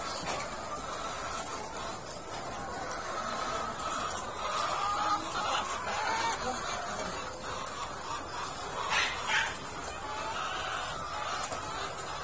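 Layer pullets just starting to lay give soft, continuous clucking and murmuring from a flock of about 550 hens, steady and moderately close, with faint higher calls now and then.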